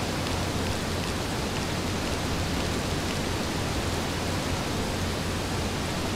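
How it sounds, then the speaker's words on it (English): Steady rain falls in the farming video game Another Wonderful Life, a dense, even hiss of constant moderate loudness with no pauses. "Oh, it's raining."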